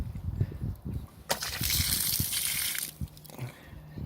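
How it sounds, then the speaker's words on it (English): Water drawn from a lake through a hose line gushes and sloshes steadily for about a second and a half, set against lower rumbling handling noises, then stops abruptly. "Now we got water."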